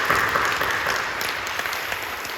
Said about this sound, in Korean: 박수를 격려해 주시고 고맙습니다